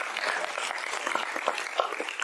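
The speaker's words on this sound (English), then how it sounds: "Let's clap hands for this woman." Seminar attendees at a youth entrepreneurship and leadership event clap for a woman, a fairly quiet but steady patter of applause from a moderate-sized audience.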